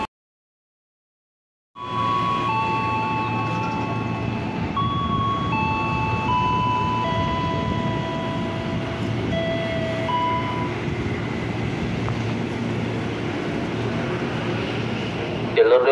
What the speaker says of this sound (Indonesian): Jalur 3 hati-hati kereta bandara melintas langsung.